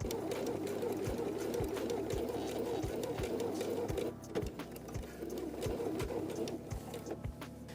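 A sewing machine stitches a half-inch seam on a pinned jumpsuit, a steady mid-range mechanical whir with regular needle ticks throughout and a short pause near the middle.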